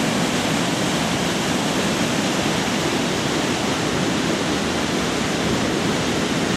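Loud, constant rush of fast-flowing river water channeled into an eddy, a dense steady roar with no pauses, close by.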